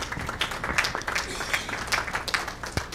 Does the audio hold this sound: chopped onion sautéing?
no